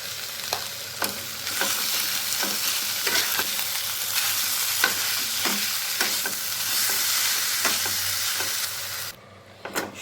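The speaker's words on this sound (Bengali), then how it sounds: "সমস্ত মশলার সাথে মাছটাকে আমি খুব ভালো মতন ভেজে নিয়েছি" Rohu fish pieces fry with spices in a pan, a steady sizzling hiss with regular stirring clacks and scrapes, cutting to near silence just before the end.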